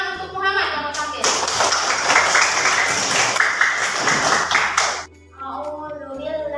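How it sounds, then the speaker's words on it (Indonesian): Classroom applause for a student about to perform, a dense burst of many hands clapping for about four seconds, then stopping abruptly, with voices and room sound before and after. "tepuk tangan untuk Muhammad yang mau tampil."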